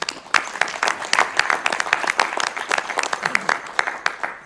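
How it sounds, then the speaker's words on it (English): Audience applause at a school board meeting, a room of people clapping unevenly with clear individual claps and bursts, moderately loud, with some murmured voices underneath. "but let's give them a round of applause."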